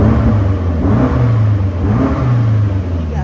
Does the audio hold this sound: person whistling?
no